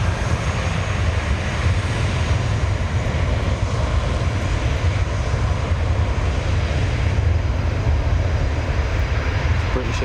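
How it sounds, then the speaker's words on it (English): A British Airways airliner bound for London Heathrow departs Newcastle International Airport, its jet engines a loud, steady roar that lasts throughout, with faint talk underneath. "British Airways to London Heathrow just departing."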